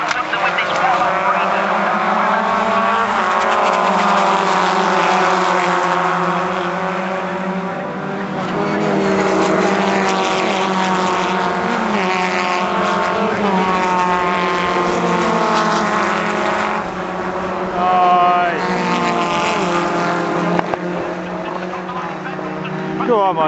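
Formula Ford 1600 race cars at Castle Combe, engines droning and howling steadily past over a long stretch, heard under continuous excited race commentary.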